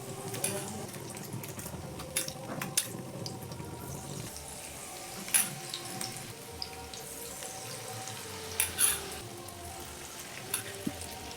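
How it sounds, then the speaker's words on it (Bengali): Coated snack pieces sizzle and crackle in hot oil, with a steady frying hiss. Scattered clinks and splashes rise over it, and a faint voice sits in the background. "প্রত্যেকটাকে এইভাবে 2 সাইড কোট করে নিয়ে আমি কিন্তু তেলের মধ্যে ছেড়ে দিচ্ছি।"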